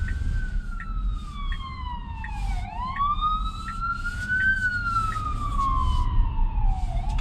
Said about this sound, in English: And there's an emergency vehicle.